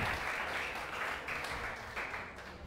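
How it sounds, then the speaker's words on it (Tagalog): Church congregation clapping and applauding for Jesus during a Sunday worship service, a steady dense roar of many hands close by that holds throughout with slight swells, with no talk over it. "Ang excited pumalakpak ng the best para kay Jesus"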